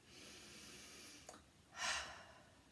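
A child-friendly calming exercise: slow, soft breaths close to the ear, one brief inhale followed by a longer, fuller breath, quiet and alone without talk.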